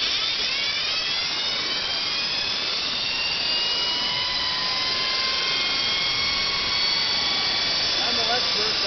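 A small electric motor fitted with freshly seated new brushes runs up to speed with a loud, high-pitched whine whose tones sweep upward and waver as it spins, steady and close throughout.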